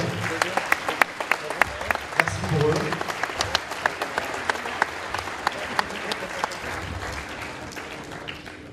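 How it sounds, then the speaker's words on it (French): Applause from a dinner-evening audience in Lyon honoring building-trade partners, a steady crackle of many hands clapping throughout, with a voice speaking over it near the start. "on peut les applaudir"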